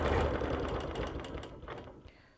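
A sewing machine runs close up while stitching around a quilt, a rapid rhythmic needle hum that gradually eases and winds down to a stop, with no voices.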